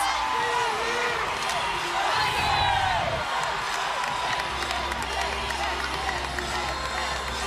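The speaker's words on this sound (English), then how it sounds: "The crowd goes wild." A gymnastics meet crowd cheers and whoops after a stuck landing in a Clemson Tigers vs. North Carolina ACC meet, a loud sustained roar with clapping that fades slightly, with a commentator talking over it.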